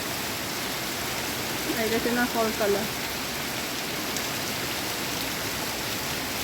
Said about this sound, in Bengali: বৃষ্টি হয়ে যাচ্ছে।